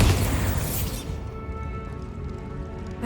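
A loud Bombarda explosion spell in the Hogwarts Legacy video game bursts in with a heavy, crackling boom, then settles into a lingering, ringing tail of debris and shimmering tones.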